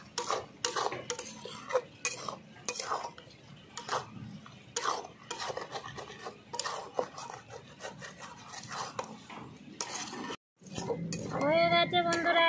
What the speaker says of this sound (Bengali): বারবার নাড়িয়ে দিতে হবে যাতে না লেগে যায়